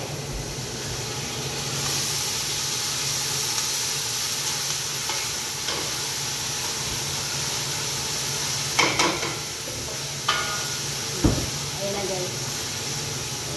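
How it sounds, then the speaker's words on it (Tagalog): Rice sautéing in a little oil in a pan gives a steady, loud sizzle and hiss throughout, broken by a few sharp clinks of a utensil near the end, while a person talks over it. "So dito, kailangan gisahin. Gisahin at ang mantika, lagyan ng mantika ng konti."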